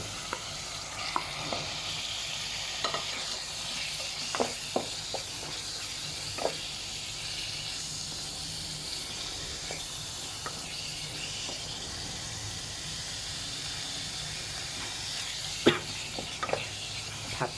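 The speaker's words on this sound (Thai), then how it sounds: "ผัดเรื่อยๆจนเนื้อของเราจะสุกนะ" Beef stir-fries in a pan, a soft continuous sizzle broken by repeated light clicks and scrapes of a spatula, steady and close throughout.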